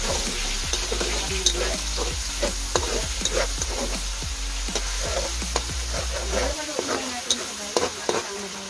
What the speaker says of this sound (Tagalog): durugin natin yung kamatis